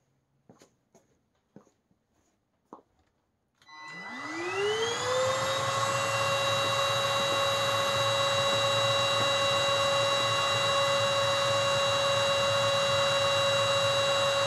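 A MOOSOO XL-618A vacuum cleaner starts after a few faint clicks and spins up to a steady whining hum on low speed, loud and continuous with a tonal whine.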